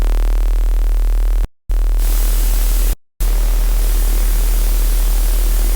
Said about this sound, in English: We're hearing a lot of noise come through.